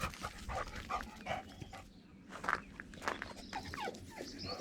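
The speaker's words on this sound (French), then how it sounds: "Regarde comme elle fait chien de garde quand c'est comme ça." A Cane Corso guarding its space gives a few short, muffled barks and grunts at moderate distance, with scattered soft noises between them.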